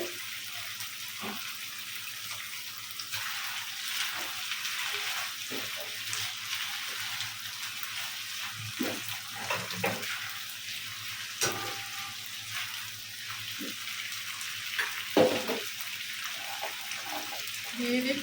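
Soy sauce and vinegar sizzling in a pan while cooking cheese pasta, a continuous moderate fry with occasional stirring clinks, under a person talking.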